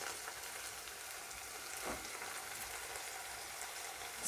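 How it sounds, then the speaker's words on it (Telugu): Brinjal pieces frying in oil for a brinjal and chana dal curry, a faint steady sizzle with light crackle throughout and no voices. "సో ఇప్పుడు వచ్చేసి ఈ వంకాయ ముక్కలన్నీ కూడా దీంట్లో వేసేస్తున్నానండి"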